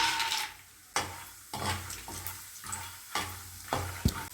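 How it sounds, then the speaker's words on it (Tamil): Peanuts roasting in oil in a pan, giving intermittent scraping stirs and soft sizzling in bursts, with a sharp metallic clink near the end. "இந்த வேர்க்கடலையை முதல்ல வறுத்து எடுத்துடலாம்"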